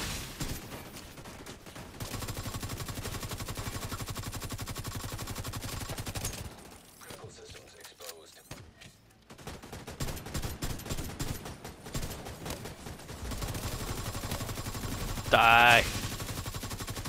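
Gunfire in The Division 2 video game, dense bursts of automatic fire that run through most of the stretch with a short lull in the middle, while a player talks over it.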